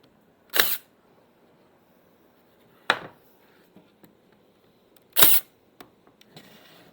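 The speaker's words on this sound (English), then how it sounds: "So a little bit of glue, and I'm just going to pin nail it" A pin nailer fires into a glued wooden shelf with three sharp pneumatic snaps spaced a couple of seconds apart, close and loud, with faint handling clicks between shots.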